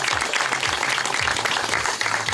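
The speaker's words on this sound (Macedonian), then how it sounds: "Ве молам еден аплауз за незиното дело." Audience applause at a painting exhibition, a steady dense wash of clapping that stays loud and close throughout with no pauses.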